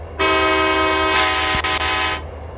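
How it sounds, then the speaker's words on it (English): CSX locomotive horn in the High Iron train game, sounding one long, loud, sustained chord blast of about two seconds that swells in strength midway before cutting off cleanly, heard alone. "Here's the horn."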